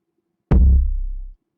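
A single deep 808 bass hit from a sample pack, with a punchy attack and a booming low tone that decays over roughly a second, heard alone.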